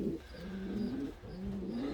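An older racing pigeon with a large wattle coos close by, giving two soft, low, rolling calls in quick succession against quiet background.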